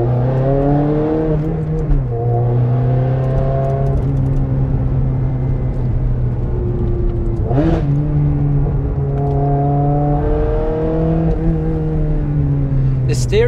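A Ferrari 360 Challenge Stradale engine pulls hard from inside the car, its tone climbing through the revs, dropping at each gear change and rising again, loud and constant with a voice talking over it.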